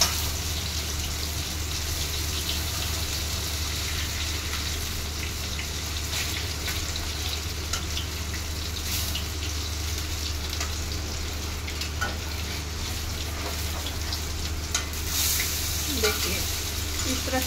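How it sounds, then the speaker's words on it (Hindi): Soya chap coated in besan batter frying in hot oil, a steady dense sizzle with occasional pops and stirring scrapes throughout, no talk over it. "अब इसको देखिए मैंने यहाँ फ्राई कर रहे हैं हम इसको"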